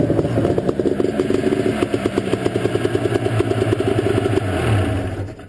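A 1985 Ski-Doo Safari 377 snowmobile engine fired up after a faulty CDI box was replaced, running with a loud, close, rapid pulsing putter that holds steady before easing off near the end.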